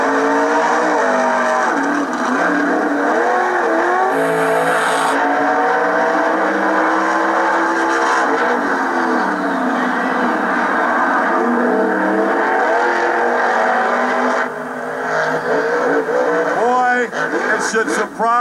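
At a Monster Jam race, the monster trucks Wolverine and Captain's Curse roar with steady, loud engine drone and rising revs. An announcer talks continuously over the engines.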